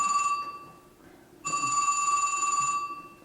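A telephone rings during a city council meeting, two electronic rings with a pause between them that sound steady and clear over a quiet room, with no one talking.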